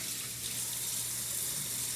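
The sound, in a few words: water running from a tap while washing hands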